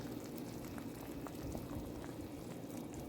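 A pork chop steams in a covered pot with a little water, a piece of Irish potato and a carrot, giving a steady, even bubbling and hissing that runs close and unbroken throughout.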